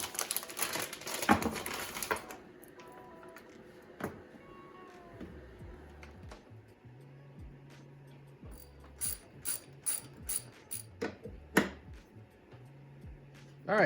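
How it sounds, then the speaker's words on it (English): Zip ties ratcheting tight around a stainless brake line on a Subaru STI, heard as a string of quick, close clicking bursts with pauses between them, plus some louder handling noise near the start. "I'm going to finish zip tying it up and everything"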